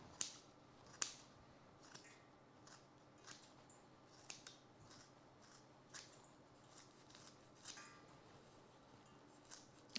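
Scissors snip through horsetail plant stems, a string of sharp, quiet cuts spaced roughly a second apart, close by against a faint hush.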